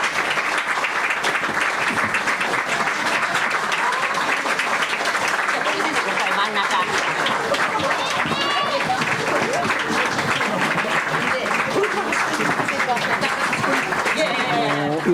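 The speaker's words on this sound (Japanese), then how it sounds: "皆さんじゃあ拍手でお迎えください" At a Tokyo forum on the Fukushima Daiichi nuclear accident, the audience gives a loud, dense, sustained round of applause to welcome a speaker, with a voice faintly audible beneath the clapping.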